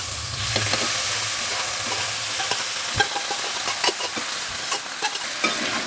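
Beef being stirred and fried in a pan for a Kerala-style beef ularthu with coconut slices: a constant sizzle with scattered scraping spoon strokes and small clacks, close up, and no talking.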